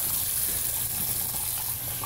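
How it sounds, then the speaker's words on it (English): Water gushing and dribbling as warm water is squeezed out of a washed Dyson DC17 Animal vacuum part, a steady close wet rush with no talk. "warm water, squeezing it out"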